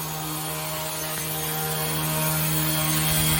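A Yu Xiang 1/27-scale mini RC helicopter touches down indoors, its steady high electric whine and rotor buzz filling the room at close range and swelling slightly as it settles.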